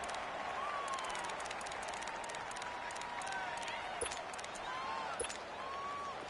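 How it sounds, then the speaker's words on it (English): A stadium crowd in the video game Madden 19 cheers and claps in a steady, distant roar, with faint clapping and occasional whistles rising out of the low, even wash of noise. "the crowd getting into it as we come up on a big 3rd down"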